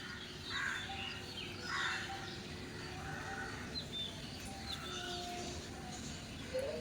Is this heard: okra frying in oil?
no